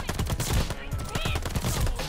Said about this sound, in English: I was shooting the fucking barrels, bro